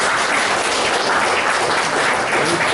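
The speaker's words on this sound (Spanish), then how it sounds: "Agradecemos primero con un aplauso a Carlos." An audience claps steadily and loudly after a lecture, a dense continuous patter of applause throughout.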